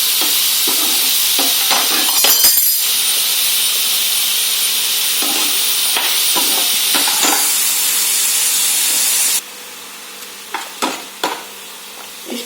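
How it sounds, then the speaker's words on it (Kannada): Prawns for a Mangalore-style chilli dish sizzle and hiss steadily in a pan, loud and close, while a spatula scrapes and stirs in repeated clatters before the sizzle drops away, leaving a few scattered knocks. "ಸ್ವಲ್ಪ ಫ್ರೈ ಆಗಲಿ."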